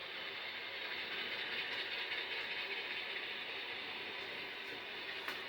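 A Broadway Limited RSD 15 model diesel locomotive runs along a layout track, giving off a faint continuous mechanical whir and rolling hiss with a few light clicks, steady throughout and quiet.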